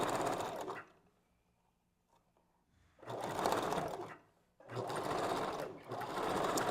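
A sewing machine stitches a wig unit in bursts, with three loud whirring runs separated by short quiet pauses and no talking over the motor.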